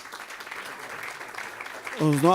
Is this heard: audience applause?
yes